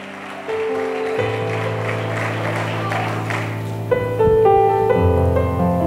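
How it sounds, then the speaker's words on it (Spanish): A church congregation claps for God during a Spanish-language sermon, broad applause mixed with sustained organ or keyboard chords, loud and close, with the music swelling toward the end. "Vamos, dale un aplauso a Dios"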